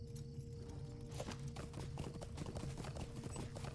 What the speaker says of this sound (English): let's get back on our horse